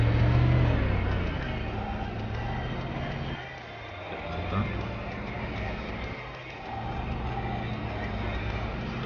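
Several cars racing off-road in the video game Trail Out, engines droning and revving in a steady mix, with someone talking over them throughout.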